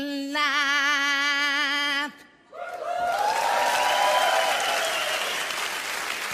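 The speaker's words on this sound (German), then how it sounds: "das ist so lieb, dass ihr klatscht" Audience applause breaks out after a short pause, following a sustained sung or hummed tone, and continues as a broad, steady wash of clapping mixed with crowd noise at a comedy show.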